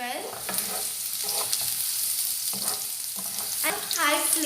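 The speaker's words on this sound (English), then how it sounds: "So now you have to saute it well" Finely chopped ginger and garlic sautéing over a high flame for restaurant-style chilli chicken: a constant bright sizzle up close, broken by repeated scraping strokes of a spatula against the pan.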